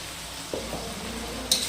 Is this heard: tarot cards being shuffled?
no